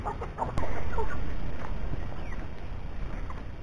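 Farmyard chickens, among them a young Giant Indian breed rooster, give a few clucks early on, then fade under a steady, fairly loud outdoor background rumble.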